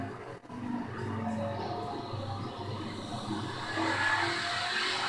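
NASCAR stock cars racing in the 2015 STP 500, a steady loud roar of engines passing on the track with a continuous crowd-and-engine wash that swells slightly toward the end.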